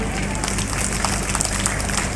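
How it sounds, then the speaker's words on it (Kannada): A school audience of students, teachers and staff at a graduation function claps loudly, a dense, continuous burst of many hands up close, with voices mixed in. "ಒಂದು ಜೋರಾದ ಚಪ್ಪಾಳೆಯನ್ನು ತಟ್ಟಿ"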